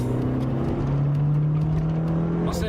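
Engine of a 1989 Honda CRX 1.6i 16 at 70 mph in fifth gear, over 4,000 rpm: a steady, loud droning hum with road roar throughout, no talking.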